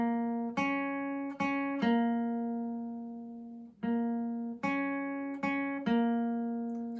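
An acoustic guitar plays the opening of a song's riff, alternating between two notes in a steady plucked rhythm, each note ringing clearly on its own with no talking.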